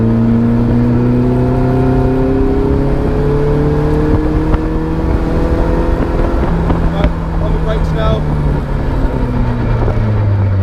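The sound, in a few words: Caterham Seven 360R car engine while driving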